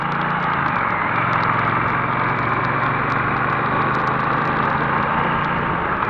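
A 2024 Triumph T120 motorcycle with stock mufflers runs steadily, a low even engine rumble holding at constant loudness throughout with no one speaking.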